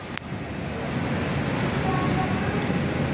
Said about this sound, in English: It is another Boeing 737-800. The airline is a Qantas.